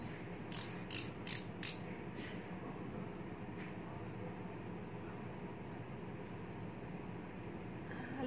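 A cosmetic stick is twisted up, giving about four quick, faint ratcheting clicks in a row, followed by a quiet room.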